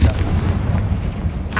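A booming fire-spell explosion in the video game Hogwarts Legacy, a loud, low, rumbling blast that fills the moment, with a voice briefly heard over it.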